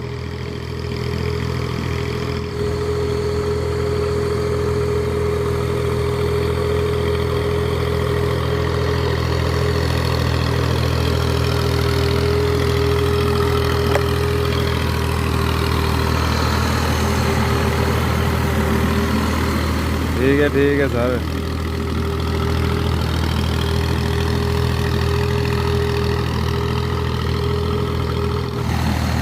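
Tractor engine droning steadily while leveling field soil with a suhaga, a loud continuous low rumble from close by, with a brief spoken exchange partway through.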